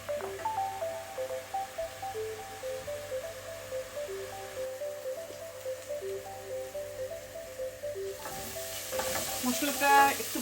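A spice mix frying in a pan gives a soft continuous sizzle under a steady melodic tone, with quiet stirring scrapes and a slightly louder crackle near the end.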